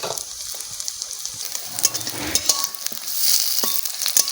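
Fish roe chops sizzle as they fry in a pan, a close, crackling hiss with irregular pops and spatters that grows slightly louder toward the end, no voices.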